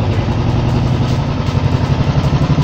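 Royal Enfield EFI motorcycle engine idling steadily up close, a continuous low rhythmic thump with no voices.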